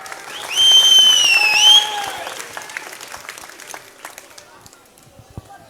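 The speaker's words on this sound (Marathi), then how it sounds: "त्यांच्यासाठी जोरदार टाळ्या वाजवा." A crowd at a political rally in Jat, Maharashtra, breaks into a short burst of loud clapping that quickly fades to scattered claps, while an amplified voice talks over it.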